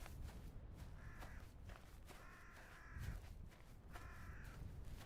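Crows caw repeatedly in video game ambience, three or four hoarse call bursts spaced apart at middling distance over a steady background bed with faint footstep-like shuffles.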